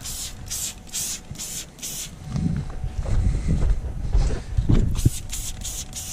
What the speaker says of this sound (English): So you're just going to spray a lot